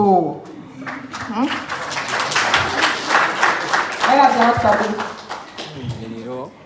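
Applause from a business seminar audience rolls on for several seconds, a thick patter of many hands under prominent talking and exclaiming voices that rise above the clapping.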